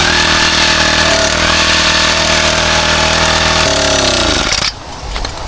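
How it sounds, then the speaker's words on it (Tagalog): A gasoline grass cutter runs at a fishpond, a loud, close, buzzing two-stroke whine holding steady before the revs drop and the engine winds down near the end. "Magana na daw po itong grass cutter."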